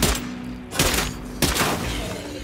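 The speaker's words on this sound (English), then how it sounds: "I'm wasting my bullets on you" Gunfire in State of Decay 2, a few loud, broadband shots with dense rumbling noise between them, the bursts landing near the start, middle and later part.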